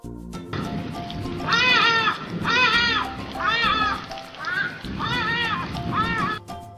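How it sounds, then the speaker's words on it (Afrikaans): A hadeda ibis calls with about six loud, harsh, nasal cries in a rhythmic series, heard close over a low background rumble. "Dit is 'n hadida."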